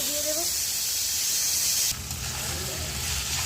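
Cubes of paneer go into a hot pan with tomato, coriander leaves, a little salt, sugar and turmeric. A steady hiss of sizzling runs throughout, then shifts to a lower, rougher frying sound partway through.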